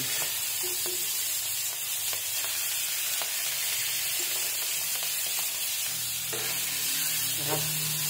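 Pre-fried beef for bistek tagalog sizzles in a pan while being stirred, a dense, steady frying hiss broken by repeated clicks and scrapes of the utensil against the pan, with no voices.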